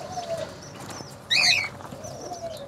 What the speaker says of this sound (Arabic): دي مجموعة من النمكوة أنا لسه جابها جديد.